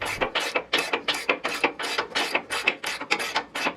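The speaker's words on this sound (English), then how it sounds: "Use a wrench to hold on to the back side of the bolt if needed." A wrench turns a bolt while a skid plate is installed under an off-road vehicle, giving a fast, even series of about a dozen close ratcheting clicks.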